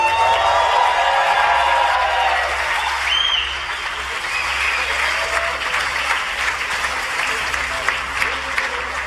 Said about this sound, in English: please, a big applause for the fastest man on the road